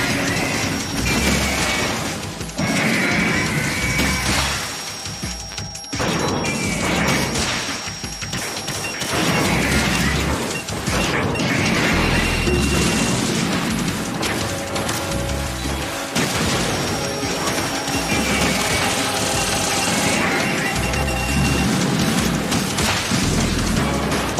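Knee missiles in Metal Gear Solid 2 explode in rapid, repeated booming crashes, with loud bursts and debris clatter piling up over a continuous rumbling din of battle.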